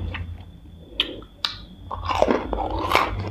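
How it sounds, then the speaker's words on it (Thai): Close-up chewing of crispy fried sausage eaten with a spicy Thai rice-noodle salad: a few sharp crunchy bites followed by wet, steady mastication, with no talking. "มื้อนี้มีเมนูตำขนมเส้นจ้ะกินกับไส้กรอกทอดกรอบๆ"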